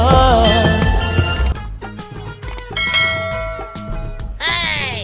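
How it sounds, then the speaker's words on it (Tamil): Loud metallic temple bell strikes ring out repeatedly, clanging with long shimmering overtones that overlap and decay between hits. "கோயில் மணிய யாரு அடிக்கிறா?"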